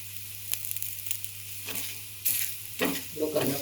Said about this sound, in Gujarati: થોડો કલર ચેન્જ થાય એવું આપણે સાઈડથી શેકવાના છે